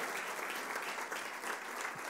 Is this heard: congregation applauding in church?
yes